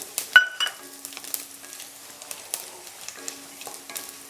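Urad dal, chana dal, fenugreek, cumin and coriander seeds fry in a few spoons of oil for a sweet and sour Malnad sauce, giving a soft steady sizzle with a sharp clink of a spoon near the start and light stirring clicks.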